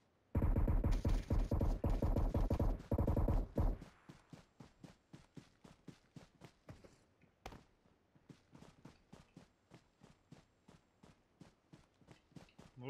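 Bursts of gunfire in the mobile shooter PUBG Mobile: a dense, loud volley for the first few seconds, then a long run of quieter, evenly spaced single shots or steps continuing to the end.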